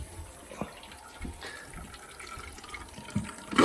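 A toilet tank refilling through a newly replaced fill valve: a faint, steady hiss of running water with a few soft clicks and knocks, ending in a brief louder splash.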